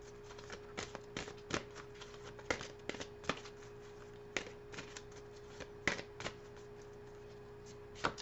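Tarot or angel oracle cards being shuffled and drawn by hand, a quiet series of soft papery flicks and snaps in irregular bursts, close up, with no talking.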